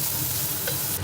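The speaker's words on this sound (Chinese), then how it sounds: "我把这个羊油倒下去炒一下" Mutton fat hitting a hot wok with cabbage, giving a steady close sizzle and stir-fry hiss that stays even and continuous for about a second, with no talking.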